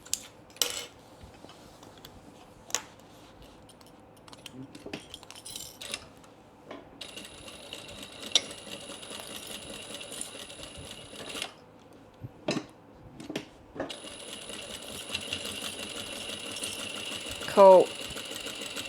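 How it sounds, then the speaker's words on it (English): Sewing machine running in two sustained bursts while back stitching a seam on a small pleated fabric bag, close and steady, with handling clicks and soft fabric rustle between runs and faint voices. "Hold that seam down and back stitch, and then other side."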